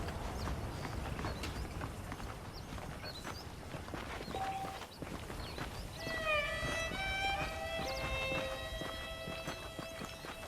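Saddled horses' hooves clip-clop at a walking pace in the Red Dead Redemption video game, a quiet, steady rhythm of hoof falls with ambient game sounds and brief musical tones over it.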